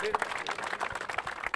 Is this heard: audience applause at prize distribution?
yes